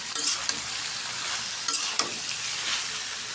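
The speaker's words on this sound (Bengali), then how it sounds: "লবণ দিয়ে দিলাম ধনিয়ার গুঁড়ো এখন একটু নেড়ে চেড়ে নিলাম" Flaxseed mash with vegetables, salt and coriander powder stirred in a frying pan, a steady close sizzle broken by a few sharp spatula clinks and scrapes, with no one speaking.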